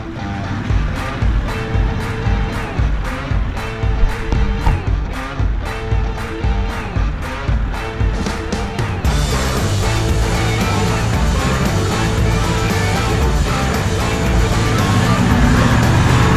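A 4WD on a Cape York track drives into a creek crossing, with people talking over the engine at first, then a dense, continuous rush of water and engine noise as the vehicle pushes through.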